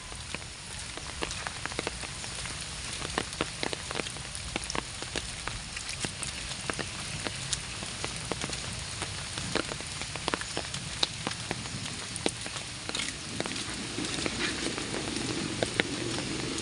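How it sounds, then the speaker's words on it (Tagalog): Steady rain falls outdoors during a walk, a dense, continuous patter with scattered sharper drops striking nearby surfaces, and no talking. "Umuulan nga lang guys."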